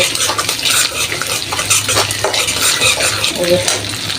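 Hilsa fish roe fries in a pan with onions and spices as a spoon scrapes and stirs it, giving a busy, close mix of sizzling and clinking metal.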